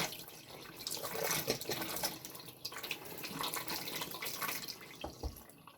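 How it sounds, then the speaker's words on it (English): Water from a tap runs steadily over a sharpening stone used for honing a razor, a continuous close splashing and trickling with small drips, no voices. "Pure running water now,"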